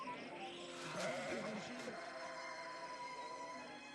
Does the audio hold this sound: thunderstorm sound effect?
no